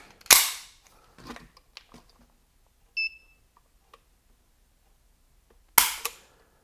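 Heckler & Koch HK4 pistol dry-firing in single action, two sharp metallic snaps of the hammer falling several seconds apart with small handling clicks and a brief electronic beep of a trigger gauge between them.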